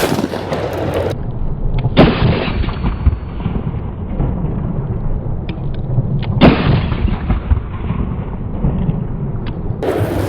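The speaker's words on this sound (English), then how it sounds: "Watch what happens when I shoot this gun." A gas-operated semi-automatic shotgun fires outdoors, with several loud, booming shots spaced a few seconds apart, each followed by a long, rumbling decay.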